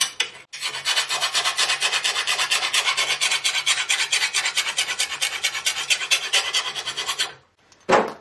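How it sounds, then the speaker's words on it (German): A small hand file rasps back and forth across a sickle mower blade to take off the burr, close and loud, in a steady rhythm of quick strokes for about seven seconds, then a brief pause and one last scrape. "Das kann hier so eine kleine Handfeile sein."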